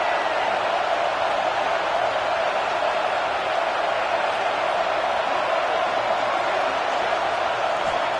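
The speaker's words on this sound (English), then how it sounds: "Man, this crowd really affecting the football game." A home crowd at a Florida versus USC college football game roars in a steady, dense wall of noise that holds at the same loud level throughout, with no distinct voices standing out.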